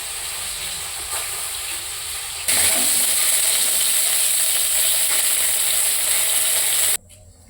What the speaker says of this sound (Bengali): তো তেল গরমে দারচিনি, তারপর তেজপাতার পর পেঁয়াজ মিশিয়ে দেওয়া হয়েছে